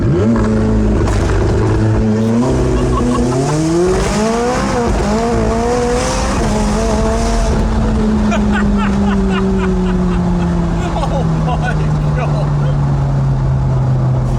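McLaren 675LT accelerating hard from a launch-control start, the engine note climbing through rising pitch sweeps and gear changes and then holding a loud, sustained roar, with tire noise and a voice talking over it.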